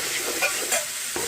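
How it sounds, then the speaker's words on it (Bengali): Onion, ginger, garlic and cumin paste with whole garam masala is stirred and sautéed in a pan, giving a soft steady sizzle with a few scraping strokes over a short stretch, and no one speaks. "এটা দিয়ে একটু কষাবো।"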